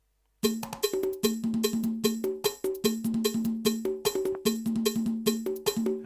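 A Roland R-70 rhythm box drum machine plays a steady, loud beat, with tight repeating drum hits and a bright cowbell-like pitched tone looping in a regular pattern, no voices.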